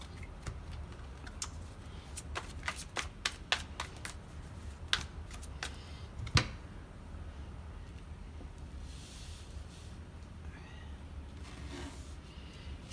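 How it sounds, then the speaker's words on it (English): Tarot cards are shuffled and slapped together in quick, sharp papery snaps, clustered at first and then thinning out, close to the microphone in a quiet room, with a soft later rustle as cards fall out. "All right, so cards are falling out."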